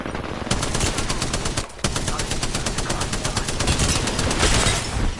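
Sustained rapid automatic fire in a shooter video game, loud and continuous with a fast, even rattle of shots and one brief pause, dominating the whole stretch.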